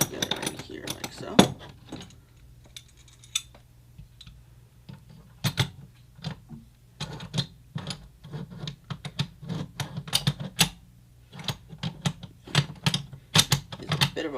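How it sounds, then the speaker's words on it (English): Metal parts of a VZ-58 rifle bolt being reassembled by hand, a run of sharp clicks, taps and sliding scrapes at irregular intervals, close up, with a faint low hum beneath. "let's put the bolt back together in here like so"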